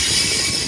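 A WAP4 electric locomotive hauling an express train rumbles past in a steady, loud broadband roar with faint wheel squeal, cutting off abruptly at the end.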